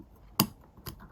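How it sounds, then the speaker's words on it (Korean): Scissors cut crochet yarn close up with two quick, crisp snips about half a second apart, in an otherwise quiet room. "넣은 후에는 잘라주세요."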